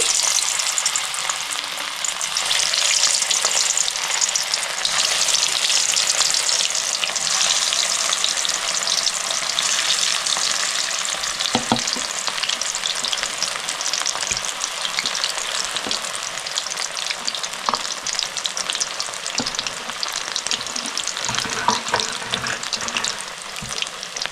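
Cauliflower pakoras fry in hot oil over low gas, a steady close sizzle and crackle running the whole time, with a few faint clinks partway through and no talking.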